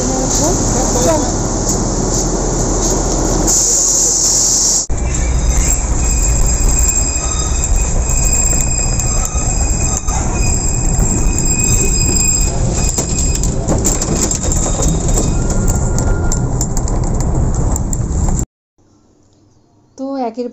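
Darjeeling mountain train running downhill, with loud continuous wheel squeal and a dense metallic rumble of carriages heard close from on board, sustained for most of the stretch before stopping suddenly, with voices in the background.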